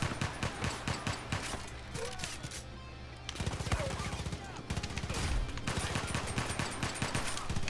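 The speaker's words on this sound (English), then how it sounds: "who's shooting at me?" Rapid bursts of gunfire in the video game Far Cry Arcade crackle in dense, repeated volleys, with a short lull before the shooting resumes fast and close.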